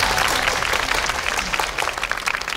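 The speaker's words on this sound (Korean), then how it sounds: "박수 부탁드리고요" Loud, dense applause from an audience at a Korean interpreting competition final, many hands clapping close and continuously throughout.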